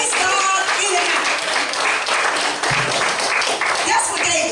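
Congregation clapping hands in praise during a church service with a guest evangelist preacher, steady dense clapping filling the room alongside voices and shouts.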